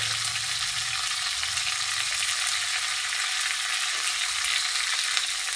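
Radish, beans and pumpkin fry together in a pan, giving a loud, dense, unbroken sizzle heard up close with no voices.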